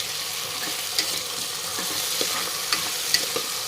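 Carrots, peas, potatoes and tomato for veg pulao are stirred as they fry in a pan, a steady close sizzle with a few soft scrapes and clicks of the spoon.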